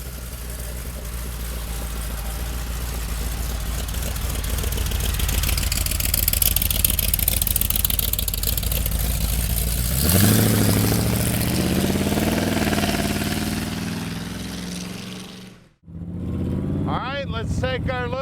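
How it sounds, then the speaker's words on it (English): A supercharged small-block engine in a 1932 Ford Deuce Roadster idles with a loud, steady low rumble, then revs and pulls away, with a brief cut near the end before the engine sound resumes. "Let's take our little Deuce Roadster for a ride. Small block supercharged power."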